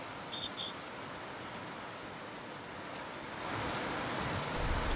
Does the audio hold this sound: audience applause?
no